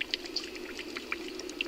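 Gas bubbles rise through swamp water, making small scattered plopping pops over a low steady background, close and soft.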